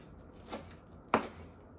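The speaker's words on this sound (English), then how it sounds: "I'm just going to chop this parsley up" Fresh parsley is chopped with a knife on a cutting board in a home kitchen, two soft separate cuts, the second sharper and louder, close by in a quiet room.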